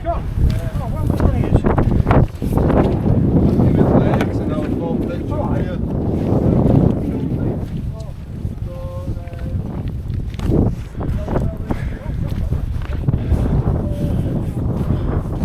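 Strong wind roars and buffets the microphone on snowy Yr Wyddfa (Snowdon), a constant loud rush with gusty swells throughout, while a voice talks faintly underneath.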